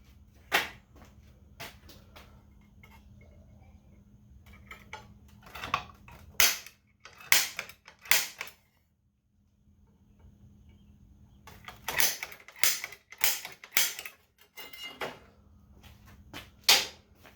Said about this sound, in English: Now we got to punch the hole.